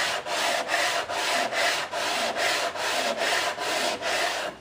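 Sanding block faced with 100 grit sandpaper rubbed over wood in a steady back-and-forth rhythm, about ten close, loud, even strokes with no talking.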